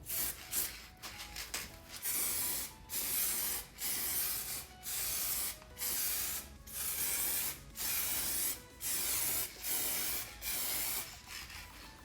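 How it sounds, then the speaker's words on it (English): Clear coat paint sprayed onto a car body from a spray can in close, loud hissing bursts, about ten evenly spaced passes with short pauses between them. "Time for the second coat, clear coat."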